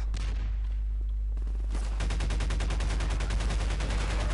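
Gunfire crackles through a Half-Life 2 firefight after a grenade is thrown, starting with scattered shots over a low rumble and then breaking into dense, rapid automatic bursts that keep going to the end.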